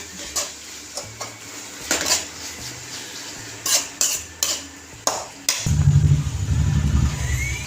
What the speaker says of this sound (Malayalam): ആദ്യം കുറച്ച് ഗരം മസാല ഇട്ട് ഒന്ന് ഇളക്കി കൊടുക്കട്ടെ.